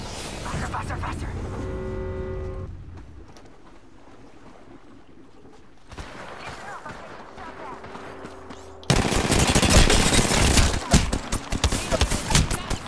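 Gunshots from the battle royale video game Apex Legends ring out amid game sounds, quieter at first and then a loud, dense barrage of rapid fire in the final seconds, with voices mixed in.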